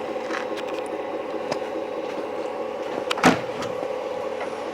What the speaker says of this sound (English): You can push a button to lower your tailgate.